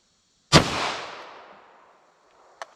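A single sharp shot from Winchester defense ammunition in 9mm or .38 Special cracks close and loud, then rings out over about a second, followed by a faint click.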